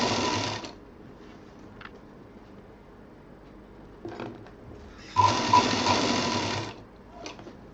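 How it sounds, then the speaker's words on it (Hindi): A sewing machine stitches a fabric bag handle in short bursts: a buzzing run at the start, brief stutters, then a longer steady run near the end, close and fairly quiet with pauses between. "इस तरह से खींचते हुए पूरा हम इसको सिल डालेंगे।"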